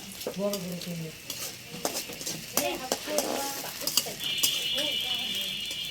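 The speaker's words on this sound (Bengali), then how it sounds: "উনি প্রথমে পেঁয়াজ মরিচগুলি একটু ভেজে নিচ্ছে ফ্রাই করে নিচ্ছে" Onions and chillies fry in a pan with a bright, steady sizzle and the occasional scrape of stirring, heard under a person talking close by.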